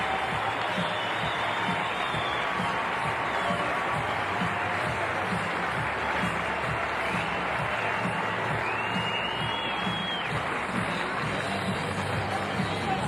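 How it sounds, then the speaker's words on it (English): Crowd applause at a tennis stadium after Maria Sharapova's second-round win at the 2014 Rogers Cup in Montreal, a steady, dense wash of clapping that holds evenly for the whole stretch without breaks. "Very good hand as well from the crowd"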